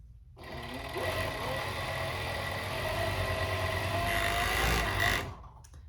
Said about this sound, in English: But you're just gonna sew this top part right here.